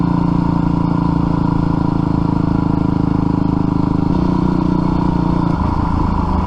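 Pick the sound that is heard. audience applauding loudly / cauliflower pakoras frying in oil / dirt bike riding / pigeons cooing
dirt bike riding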